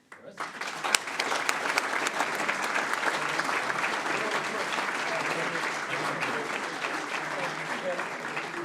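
An audience applauds the winners of the 11th annual AIA High School Student Design Contest at a school board meeting. The sustained clapping from a roomful of people stays steady and fairly loud throughout.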